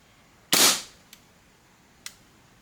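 A Hi-Capa SSP5 airsoft pistol fires one sharp, loud crack, followed by two much fainter short clicks spaced about a second apart, alone in an otherwise quiet room.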